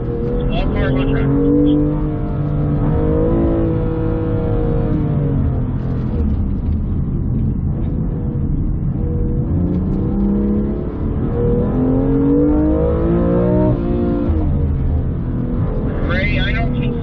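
BMW M4 GT4 race cars on a circuit, engines droning and rising and falling through gear changes, heard from inside the car beneath the steady rumble of the cabin.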